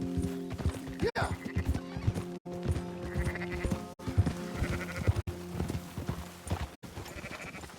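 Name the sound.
sheep bleating in video game Red Dead Redemption 2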